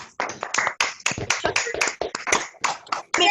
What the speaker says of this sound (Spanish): Ya se puede aplaudir.